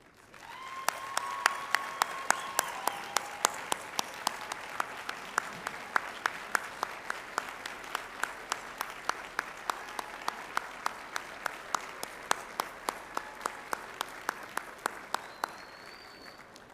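Graduates at a fall college commencement for business, industry, life science and agriculture give a long, steady round of applause, dense clapping from a large crowd in a big hall with no pause or speech.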